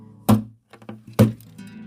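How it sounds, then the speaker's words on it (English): An acoustic guitar tossed under a bed lands with two hollow thumps, each followed by a short, low wooden ring of the body and strings, close and alone. "That's the sound of the guitar getting tossed under the bed."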